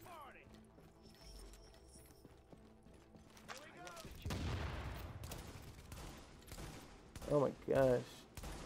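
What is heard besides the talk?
gunfire in the video game The Division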